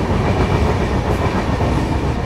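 The 22612 New Jalpaiguri–MGR Chennai Central SF Express rumbles along loudly as heard from onboard, a constant heavy roar of wheels and carriage noise with faint rhythmic clatter and no speech.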